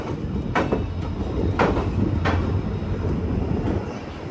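A train rumbles steadily into platform one at Haridwar railway station, a continuous low roar with a few faint metallic clacks and squeals.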